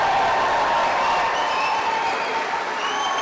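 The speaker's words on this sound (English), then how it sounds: "cheering and applause is very definitely permitted" Audience applause mixed with cheering fills the whole stretch, steady and dense at moderate loudness, with crowd voices blended into the clapping.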